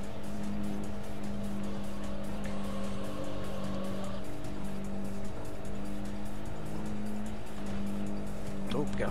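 A Subaru Impreza racing in the Import Tuner Challenge video game, its engine droning steadily with a faint tire squeal, while someone talks over it throughout.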